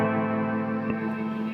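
Huge, long-dwell guitar reverb from a PedalPCB Spirit Box DIY pedal, a dense sustained wash of chord tones that keeps ringing and swelling without decay, loud and alone.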